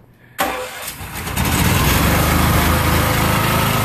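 Small engine on a homemade hydraulic power pack catches at once and quickly revs up into a loud, steady running roar close by.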